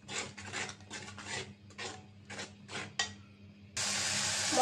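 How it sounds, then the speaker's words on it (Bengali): Coriander powder, cumin powder and salt are fried and stirred in a pan, making rhythmic scraping strokes of a utensil. Near the end a loud, steady sizzling hiss surges up. "মশলাটা এখন কষাই নেব"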